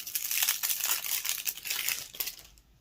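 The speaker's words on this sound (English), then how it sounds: "Cracking the first pack." A Magic: The Gathering Jump/Start booster pack is torn open by hand, giving a close, loud crinkling and ripping of the foil wrapper for about two seconds before it fades to quiet.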